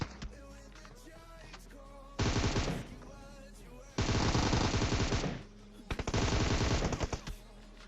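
Gunfire in the mobile battle royale game PUBG Mobile comes as three loud bursts of rapid automatic shots with short quiet gaps between them.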